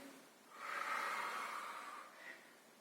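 A single slow inhalation during a Pilates exercise, a soft, close breath swelling and fading over about two seconds, followed by a brief faint second puff, in an otherwise quiet room.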